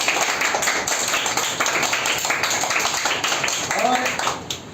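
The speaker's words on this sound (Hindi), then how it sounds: "और एक बार जोरदार ताली बजाइए हरि भारद्वाज जी के लिए।" An audience at a children's charity meal event marking a 43rd wedding anniversary in India claps together in a continuous dense patter, fairly loud and steady, with voices mixed in underneath.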